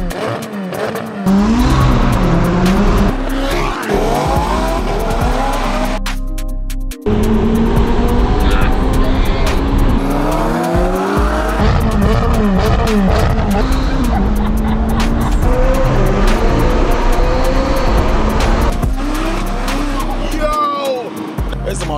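An Audi RS3 running on race fuel gives a loud, close engine roar that revs up and down hard, with tire squeal and skidding over a steady drone and one brief drop-off midway; voices are faintly present.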